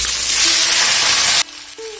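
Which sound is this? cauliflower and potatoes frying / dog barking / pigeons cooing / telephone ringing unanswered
cauliflower and potatoes frying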